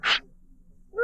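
A single sharp sneeze in an old-time radio drama, loud and close near the start, followed by quiet room tone and the start of another sound at the end.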